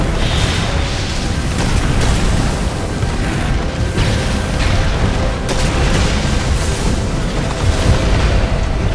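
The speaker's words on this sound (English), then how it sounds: "just launch those missiles" Missiles launching and blowing up in Armored Core 6, a dense, continuous roar of booming blasts and rumbling explosions that stays loud throughout with no pause.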